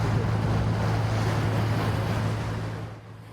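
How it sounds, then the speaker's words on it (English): A water-bus passenger vessel on the lake near Rusinga Island. A steady low engine drone and rushing water or wind noise stay loud throughout, then ease off slightly at the end. "there is another type of water transport vessel operating on the lake"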